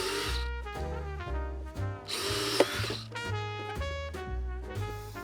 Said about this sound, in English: cut that out with about a 2-inch hole